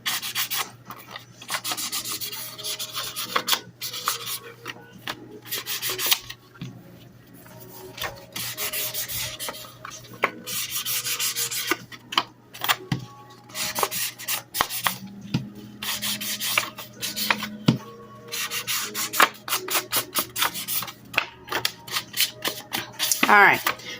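Ink is rubbed onto paper to distress a small handmade journal, producing continuous dry scuffing strokes in rapid, uneven bursts close by, with a brief pause partway through.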